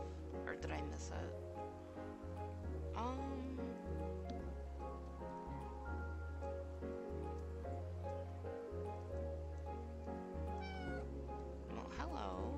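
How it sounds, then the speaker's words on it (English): Cats meow repeatedly in the cozy video game Calico, several short meows spread across a steady bed of gentle rain and soft background music, all fairly quiet. "I don't know whose meow that was,"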